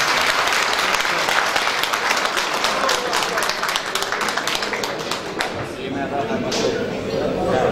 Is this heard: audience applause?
yes